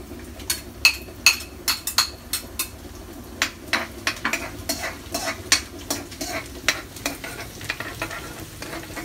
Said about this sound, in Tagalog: Magigisa po tayo ng bawang tsaka sibuyas